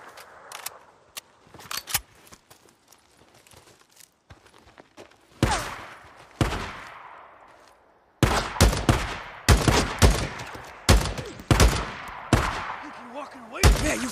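Bursts of gunfire from a Days Gone firefight, mostly loud close shots and rapid volleys clustered in the second half, with quieter stretches and some footsteps between.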